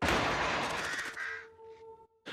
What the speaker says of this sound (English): Is the crow signaling at something though?